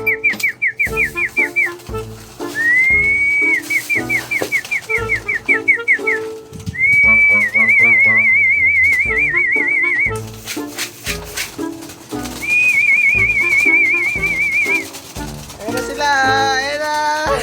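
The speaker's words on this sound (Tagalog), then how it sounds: "kailangan nilang marinig yung sipol ng daddy nila para ma-recognize na sila kakain" Sharp, repeated whistling calls pigeons to feed: bursts of rapid chirping whistles alternate with long warbling trills, loud and close over background clatter and wing noise, with a brief bird sound at the end.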